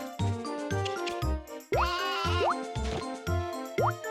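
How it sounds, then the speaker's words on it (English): Sheep bleating in the farming video game Harvest Moon: A New Beginning, a series of short electronic bleats with rising pitch sweeps, repeated in a bouncy rhythm over a looping melodic background. "I think this is a Suffolk sheep?"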